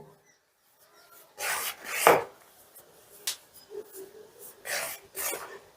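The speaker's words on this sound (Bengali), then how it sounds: "এবারে আমি প্রায় 2-3 মিনিট রগড়ে রগড়ে আটা ময়দাটার মধ্যে বেশ ভালো করে ময়ান করে নেব।" Hands rub ghee into a mix of flour for kachori dough, giving soft rasping strokes in irregular bursts close by, with a few brief pauses between rubs.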